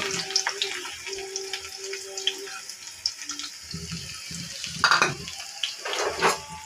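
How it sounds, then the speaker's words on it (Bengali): Onions frying in hot oil in a home kitchen while a Bengali eggplant and small-fish curry is cooked, a steady watery hiss with scattered crackles and a few clattering bursts from stirring. "এখন পেঁয়াজ দিয়ে দিব তেলের মধ্যে, ভালোভাবে কষিয়ে রান্না করে নেব।"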